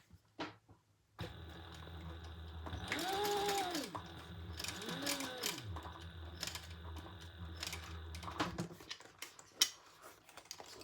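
A sewing machine stitches around a make-up bag in short bursts of whirring and clattering, rising and falling in pitch with brief pauses between runs, close and fairly quiet.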